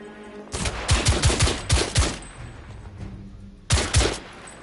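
Bursts of rapid gunfire from The Order: 1886 video game, two loud volleys of repeated shots with a lull between, then a third short burst, no talk.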